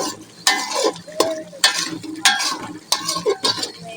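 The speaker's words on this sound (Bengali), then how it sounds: "মশলাটা নেড়ে চেড়ে কষিয়ে মশলাটা কষানো হয়ে গেছে" Spice paste for bhuna khichuri frying in a pot, with sharp, loud scraping stirs landing every half second or so over a soft sizzle, and no voices.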